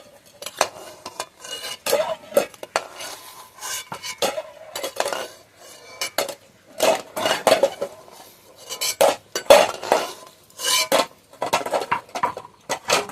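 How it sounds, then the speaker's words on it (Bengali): Boiled eggs lifted out of a pot for an egg curry, with metal utensils clinking and scraping against the pot in irregular bursts, close and fairly loud, with quiet gaps between. "ডিমগুলো সব সিদ্ধ হয়ে গেছে, ডিমগুলো এবার আমি তুলে নেব।"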